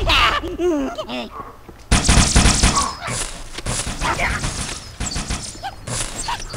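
Gunfire in Halo 2, sharp loud bursts that break in after an opening stretch of speech and keep going in a busy battle mix while a player talks.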